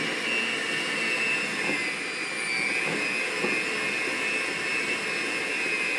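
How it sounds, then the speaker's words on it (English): An electric stand mixer runs at high speed while milk is slowly added, giving a loud, steady whirring whine with a constant pitch throughout and no talking. "This mixer is pretty intense, so you might get a little messy."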